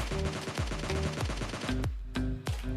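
Rapid gunfire from a PUBG Mobile Lite firefight in a solo-versus-squad match, with dense bursts of automatic shots at a steady rhythm, then a few heavier single reports near the end, loud and close.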